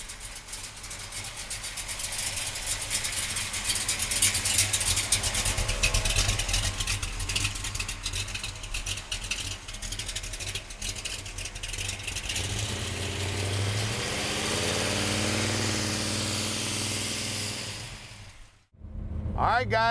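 A big-block 1967 Chevrolet Camaro with an RS front end rumbles at a deep idle, the engine swelling with a few revs before cutting off near the end, while someone talks over it.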